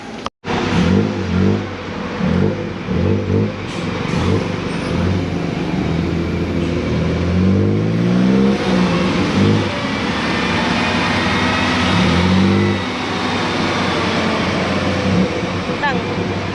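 A tuk-tuk engine drones loudly and close during a ride, its revs pulsing at first and then rising and falling, with voices heard over the motor.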